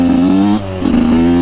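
A new 85cc motorcycle near the end of its break-in revs cleanly without misfiring, a loud steady engine drone that dips briefly mid-clip and then climbs back.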